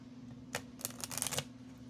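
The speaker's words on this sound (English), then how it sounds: "I'm going to shuffle it one more time." A quick riffle shuffle of playing cards up close, a brief fluttering burst of clicking cards over a faint steady hum.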